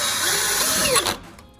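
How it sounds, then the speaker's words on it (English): A hammer drill with a carbide-tipped bit bores into concrete with a loud, steady whining grind that runs for about a second before spinning down. "So I have a hammer drill right here with a carbide tip bit."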